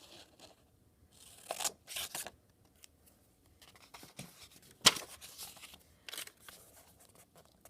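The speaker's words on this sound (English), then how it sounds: "I'm also going to cut just down to the fold so I have little flaps" Scissors cut paper down to a fold to make small flaps for a math notebook. Several quiet, close snips and rustles come in short separate bursts with pauses between them, and one sharp click stands out.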